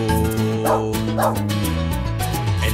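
Cartoon dog barks in a children's song, a few short bow-wow yips sung over bright music with melody and backing instruments.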